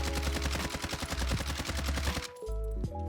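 Automatic rifle fire in the shooter game Warzone, a loud sustained burst of rapid evenly spaced shots lasting about two seconds, then cutting off into quieter game sounds.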